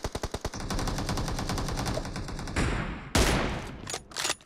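Rapid bursts of automatic gunfire ring out in PUBG Mobile arena training, with a quick rattling volley at the start, sustained loud fire, then sharper single shots and short bursts near the end, no talking.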